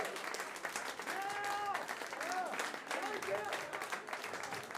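Audience applause at the Plattsounds band contest final in 2023, a broad steady wash of clapping from a crowd filling the whole stretch, with a few sustained tones and voice-like sounds weaving above it.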